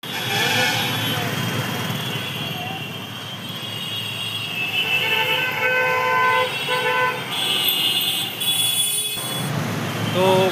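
A train runs near Howrah station, a dense, steady rumble of rail traffic with bright tonal horn-like bands rising toward the end. Voices and crowd noise mix in underneath.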